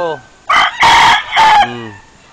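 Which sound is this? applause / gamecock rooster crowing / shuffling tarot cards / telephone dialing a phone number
gamecock rooster crowing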